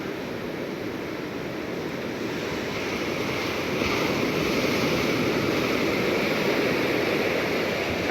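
Big Pacific Ocean waves crash on a steep beach at high tide, right at the shoreline. The result is a steady, close, broadband roar that swells louder midway, with no voices.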